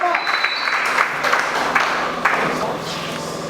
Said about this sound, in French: Sous vos applaudissements bien entendu